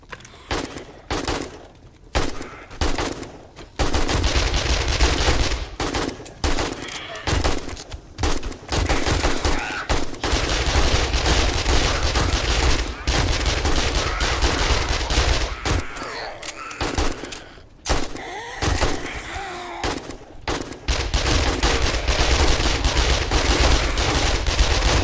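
Sustained gunfire in a 7 Days to Die-style survival game on a public server, likely .44 Magnum revolver shots, dense and continuous with repeated bursts over a steady background hum, without speech.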